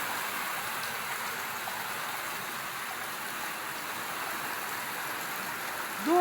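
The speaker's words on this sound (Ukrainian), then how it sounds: "Довго ми чекали цього дощу, можна сказати, ціле літо." Steady rain pours down in a continuous, even hiss with no gaps, close and moderately loud, ending with a brief bright sound at the very end.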